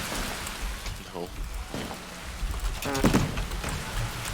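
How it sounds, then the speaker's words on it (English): Rain patters steadily in the Minecraft modpack MC Eternal, a soft continuous hiss with a few brief tonal game sounds and faint voices over it. "Have we just made it perpetually rain?"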